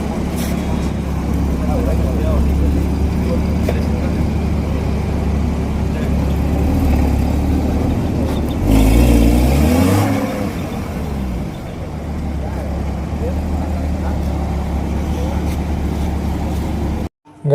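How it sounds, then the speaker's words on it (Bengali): Porsche and BMW supercars arrive at a roadside dhaba on a Sunday. A steady engine drone builds to a loud, revving swell as one car passes close by, then settles back, with people talking throughout. "আসছে পর্শে পর্শে বিএমডব্লিউ। সাউন্ডটা শুনে এনজয় নাও।"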